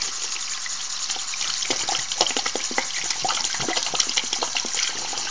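A makeup brush is rinsed under running tap water during deep cleaning, a continuous splashing rush of faucet flow with shifting gurgles as bristles move through the stream, close and steady throughout.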